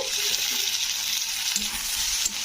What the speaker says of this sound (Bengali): টমেটোটাকেও কিন্তু একটু ভেজে নিতে হবে